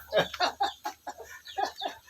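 Fighting-cock hens on a mixed farm give a run of short, rhythmic clucks, about eight or nine close bursts in quick succession, fairly loud against a quiet background.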